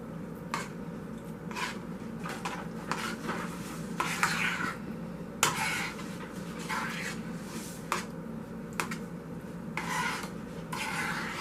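Baked macaroni and cheese with crawfish and extra spicy seasoning being stirred in a dish: close, irregular scraping and rubbing strokes of a utensil against the dish, repeating in short bursts with no talking.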